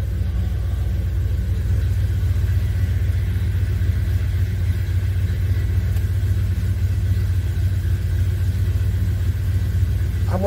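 A 1978 Chevy C10 truck engine runs with a steady, loud low rumble throughout, close up, as the truck eases slowly along inside a metal building.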